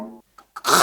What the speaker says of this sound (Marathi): मी खाकरलो.